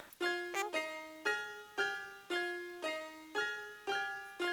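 Piano chords with a strum effect from FL Studio's strum tool, each chord rolling its notes in quickly rather than striking at once; about eight sustained chords in a steady, even rhythm, close and clear, with no talking.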